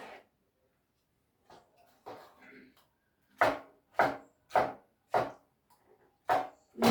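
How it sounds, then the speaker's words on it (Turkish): A knife chops peeled tomatoes into small cubes on a board, a few scattered soft strokes first, then a run of six firm, evenly spaced cuts, each a crisp thud close by. "soymuş olduğum domateslerimi arkadaşlar dilimleyip keseceğim böyle küp küp"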